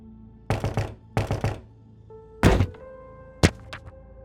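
Pounding on a room door in a horror radio drama: two quick bursts of rapid knocks, then a heavier booming thud and one final sharp bang, with silence between the blows.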